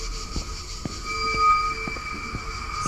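A subway train runs in the video game The Ghost Train, giving a steady rolling rumble with rhythmic clacks of wheels over rail joints and a faint high whine.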